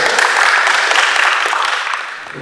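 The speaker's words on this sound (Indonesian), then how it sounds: "Kita tepuk tangan untuk mereka." An audience at a Golkar party event in Sikka, Indonesia, claps together in a loud, dense burst that tapers off after about two seconds. No voices rise above the clapping.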